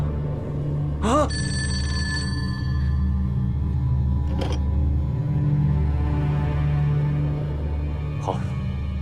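An old-fashioned telephone bell rings in a dramatic scene set in Republican-era Shanghai. Sharp bursts of ringing come near 1, 4.5 and 8.5 seconds over a steady low rumble, with talk around them.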